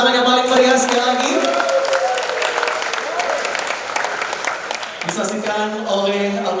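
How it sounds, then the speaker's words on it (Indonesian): Audience at an Islamic economic festival event in Kediri claps loudly and steadily, with music playing under the applause throughout. "Boleh kami tepuk tangan yang paling meriah sekali lagi?"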